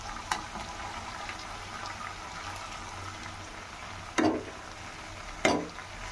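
A spoon stirs a vegetable curry in a pan after chili powder and salt go in, with a soft simmering hiss underneath and a few distinct scraping strokes, the last two close together near the end.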